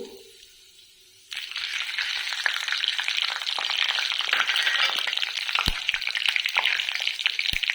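Cinnamon, cloves and whole spices fry in a pan for tomato rice, a loud, steady sizzle that starts suddenly after a quiet second, with soft scraping and clicks as the spices are gently stirred.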